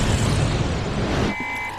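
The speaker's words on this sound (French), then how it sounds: "Il a explosé." Explosion in a science-fiction film, a loud close roar of broadband rumble that rolls for over a second before cutting off abruptly into quieter sound.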